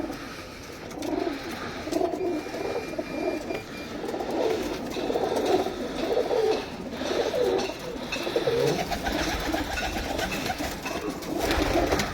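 Pigeons kept in a loft coo in soft, repeated throaty rolls, several birds overlapping close by in a continuous murmur, with faint background noise and no talk.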